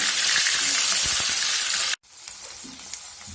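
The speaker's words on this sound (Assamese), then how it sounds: "এইখিনি এতিয়া অলপ ফ্ৰাই হ'ব দিম" Chicken sizzles loudly in a hot pan at home, a dense steady frying hiss that cuts off abruptly, then resumes quieter with a few small pops and crackles.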